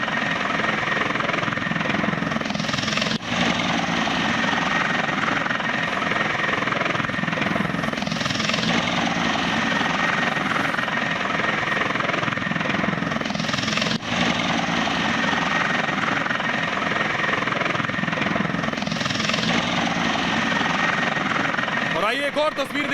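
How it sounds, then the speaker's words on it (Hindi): A helicopter carrying Yogi arrives at Banda, its rotor thudding in a steady loud drone throughout, with a narrator talking over it. "जिस वक्त बांदा पहुंचा योगी का हेलीकॉप्टर"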